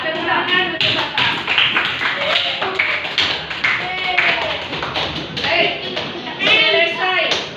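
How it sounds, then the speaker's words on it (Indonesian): People in a room clap for a correct answer during a quiz, irregular sharp hand claps and taps mixed with lively, overlapping voices talking and calling out throughout. "Tepuk tangan untuk Bapak."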